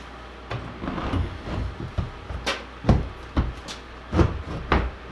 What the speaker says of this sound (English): So let's try and put this here door in